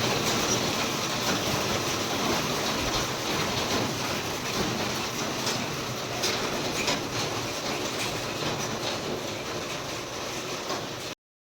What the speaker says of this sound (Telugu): మా రేకుల మీద సౌండ్ వినండి, పెద్ద పెద్ద చినుకులు పడుతున్నాయి.